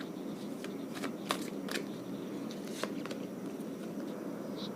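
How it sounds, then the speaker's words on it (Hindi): Tarot cards being shuffled and drawn during a reading, giving soft continuous papery riffling with a few sharper snaps and flicks, close and quiet, with no talking. "चलिए और भी कार्ड्स लेते हैं, पता लगाते हैं आपके पर्सन के बारे में।"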